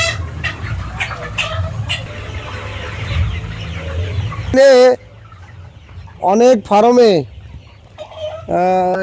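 Chickens at a poultry farm give low background clucking, then several loud, close squawking calls in bursts, mixed with people talking.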